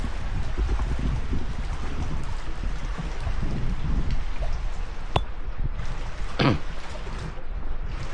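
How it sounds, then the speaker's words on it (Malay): Steady rain hisses and patters all around outdoors in a Malay village, a continuous wash of sound with a few louder drips and splashes. "Hujan."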